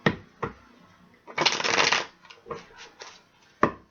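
Tarot cards shuffled by hand during a reading, heard as a burst of riffling near the mic with several short, crisp card slaps and taps before and after.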